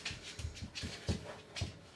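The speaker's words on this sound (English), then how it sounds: "Our dog's trying to get something under the couch behind us" A dog rooting around under a couch indoors, giving off rhythmic bursts of panting and faint whimpering noises at a fairly low level, with no one talking.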